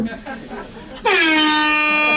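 A man blares a loud, sustained imitation of an air horn at a comedy show right after some brief talking, the honk held for about a second.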